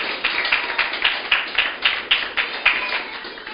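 Rhythmic group clapping from a church congregation, a steady beat of about three claps per second that keeps a regular pulse from start to finish.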